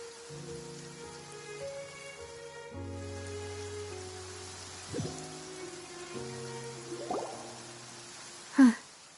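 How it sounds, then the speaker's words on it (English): Steady rain falls across the Genshin Impact game world, a soft, even hiss beneath sustained music tones, with a sharp louder burst near the end. "It's been raining non-stop for a few days now."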